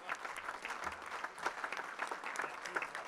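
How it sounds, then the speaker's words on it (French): Audience applause at an anniversary celebration for the Orléans university hospital, a crisp crackle of many hands clapping with uneven surges, fairly quiet and heard alone. "je pense vraiment qu'on peut vraiment l'applaudir et l'applaudir encore"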